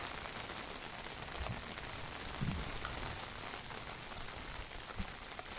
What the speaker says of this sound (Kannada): ಮಳೆ ಜೋರಾಗಿ ಬರ್ತಾ ಉಂಟು.